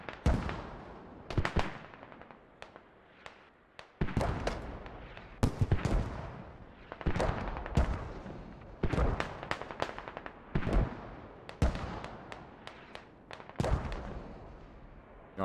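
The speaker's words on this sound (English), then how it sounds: "Mortar's starting to get counter-mortared." Mortar fire in the video game Squad: a steady run of sharp, heavy blasts and thumps, some near and loud and others more distant, repeating irregularly every second or so with no talking.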